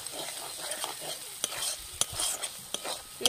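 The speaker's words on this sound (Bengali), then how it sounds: "মশলাটা আবার ভালো করে কষিয়ে নেব।" Spice paste with coriander and cumin powder for katla fish rezala frying over low heat, with close stirring and scraping against the pan over a soft sizzle.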